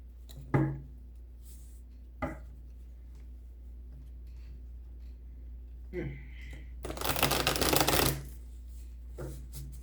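A deck of tarot oracle cards is shuffled by hand, with a few soft taps and riffles and then a long, bright, crisp shuffle burst, close up over a low room hum.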